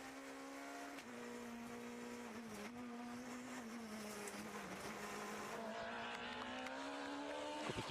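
A Skoda rally car driven by Jan Kopecky on a Tour de Corse special stage: a loud, continuous high-revving engine note that rises and falls through gear changes, with steady road and tyre noise throughout.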